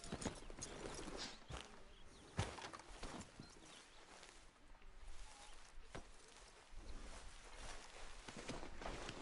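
Horse hooves clip-clop in the open-world western video game Red Dead Redemption 2, a steady walking rhythm of soft thuds set against a continuous outdoor ambience, with one sharper knock standing out partway through.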